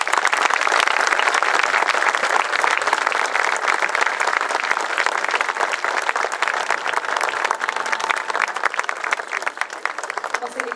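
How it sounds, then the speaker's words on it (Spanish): A crowd claps steadily at a school's 150th anniversary ceremony, sustained applause at an even level throughout with a faint tone briefly audible underneath. "Renovamos el aplauso."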